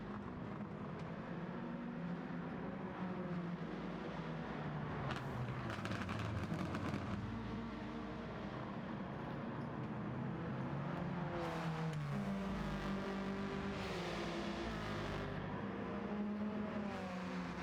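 Race cars in Gran Turismo 7 run in single file around Bathurst, with rising and falling engine notes, revving and gear changes, and cars passing one after another at a steady level.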